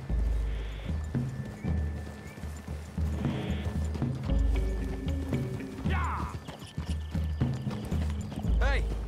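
Horses ride through trees in Red Dead Redemption 2, steady hoof clip-clops with several whinnies and snorts, while characters talk over the riding.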